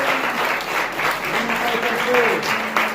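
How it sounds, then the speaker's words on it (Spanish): A church congregation claps steadily through the whole stretch, a dense, even patter with a voice singing or speaking over it. "Un aplauso al Señor."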